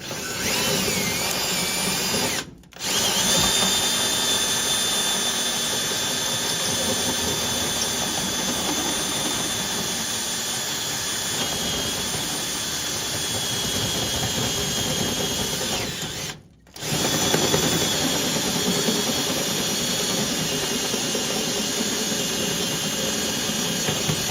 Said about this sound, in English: Full on drill now.